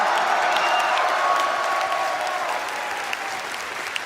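An arena crowd at the Brawl Stars World Finals 2024 claps in sustained, dense applause that slowly eases off over a few seconds.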